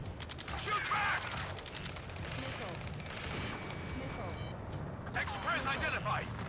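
Distant rattling gunfire bursts in the Ace Combat 7 flight game mission, set under constant radio chatter and a steady roar of battle noise.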